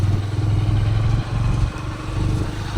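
A motorcycle engine runs steadily on a cold, sunny ride near Jaunpur, India, a low continuous rumble with faint clatter, close and loud, with no voices.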